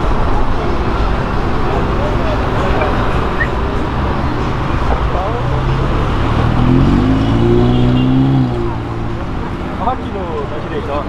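A drifting car accelerates on a street, its engine droning loudly and steadily with a rising rev sweep near the end, mixed with road noise and people talking over it.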